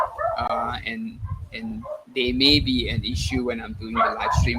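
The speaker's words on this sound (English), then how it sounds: "sorry, that's my dog." Dogs bark repeatedly at home in short, loud, near bursts, with someone talking over and between them.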